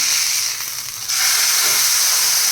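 Pomfret coated in green mint masala fries steadily in a pan, a loud continuous sizzle that dips briefly then surges back, close up and alone.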